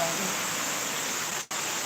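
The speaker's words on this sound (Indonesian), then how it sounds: "Hari ini kita di air terjun." Steady broadband roar of a waterfall, close and constant, filling the whole clip with only a brief dip in level near the end.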